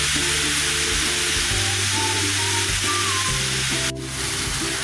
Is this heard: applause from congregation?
no